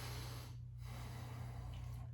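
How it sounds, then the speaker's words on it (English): Deep, slow breathing during a front-of-calf massage with a Pso Sprocket tool: a long breath with a brief pause, close to the microphone over a steady low hum. "Now I'm gonna focus on breathing"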